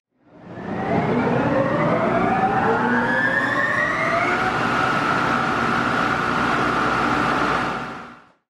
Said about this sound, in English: This is extremely loud when a train leaves the station, as you hear the motor wind up to full speed.